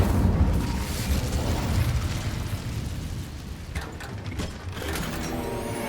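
Incendio, a fire spell in Hogwarts Legacy, goes off as a loud, sustained rumbling whoosh with crackling mechanical clatter, fading slightly toward the end, no voices over it.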